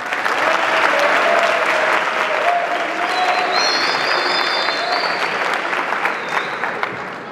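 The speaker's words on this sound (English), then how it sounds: "if we can give a quick round of applause" Loud, sustained audience applause filling a high school sports banquet hall after wrestlers are honored, a dense wash of clapping with a few faint whistles or voices mixed in.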